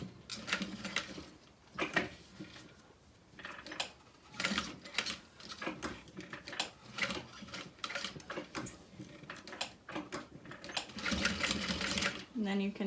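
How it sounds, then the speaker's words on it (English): Sewing machine stitching a small box stitch across a wristlet strap, steady rapid mechanical chatter in short bursts and pauses, with a voice talking over it. "I'm just going to sew through it. I'm going to make a little box stitch"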